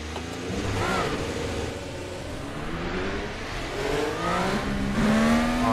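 An IndyCar climbs through its gears on a lap at Alabama, the engine note rising again and again in loud, close sweeps with brief dips at each shift.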